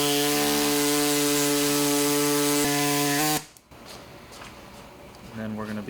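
A plastic Stealth III license plate frame is trimmed while held in a vise, giving a steady, whining tool tone for about three seconds that cuts off abruptly, followed by quieter rustling and handling noise.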